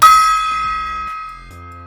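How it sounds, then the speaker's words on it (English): A single metallic gong strike rings out loudly, its bright shimmering tone sustaining and slowly decaying, with faint low rumbles underneath. "right here, I have a gong."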